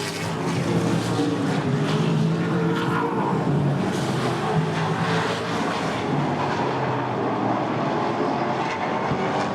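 Late model race cars in an ASA Late Model Challenge Series race at I-94 Raceway, a dense roar of engines on the oval that swells and fades as cars pass, steady and fairly close with no talk.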